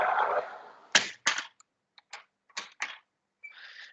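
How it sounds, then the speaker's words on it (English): A window being closed in a room: a burst of outside noise, then several sharp clacks and knocks of the frame and latch, spaced irregularly, before quiet. "let me just close the window."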